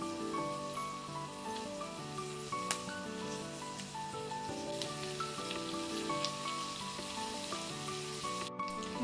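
Scaled fish pieces sizzle and fry across a hot tawa in a Marathi home kitchen on lowered gas, a steady crackling hiss running continuously at moderate loudness with faint tonal hum underneath.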